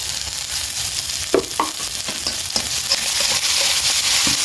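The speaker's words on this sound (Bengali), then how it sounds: "একদম পেঁয়াজ পুড়ে যাচ্ছে" Onions frying and burning in hot oil in a pan, a dense steady sizzle with a few clicks of stirring, close and loud, no voices.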